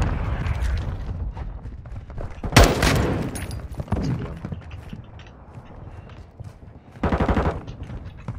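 Gunfire in Call of Duty: Modern Warfare 2 during a large 32-versus-32 match, with scattered loud shots and a short automatic burst near the end, alongside background battle noise and voices.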